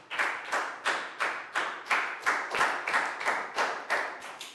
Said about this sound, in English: Big round of applause for Bang Pong,